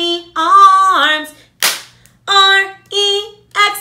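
One sharp hand clap marks the letter T in a children's dinosaur spelling song, landing alone between sung letters.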